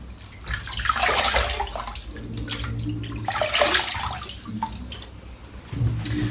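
Water splashed by hand before a shave with a shavette, a wet sloshing and dripping run of splashes that swells and fades twice, close and fairly loud, with no one talking.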